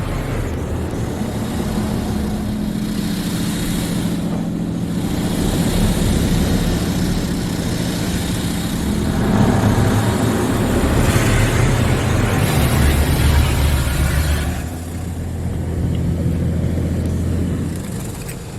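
Inside an automatic Washworld Razor Double Barrel car wash in Brighton, CO, a protective product goes onto the car: loud, steady rushing spray and motor hum that swells and shifts as equipment moves around the vehicle.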